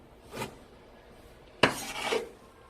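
Two sharp knife strikes on a cutting board while chopping perilla leaves, the first softer and the second a louder, crisp chop followed by a brief scraping rasp, heard alone in a quiet kitchen.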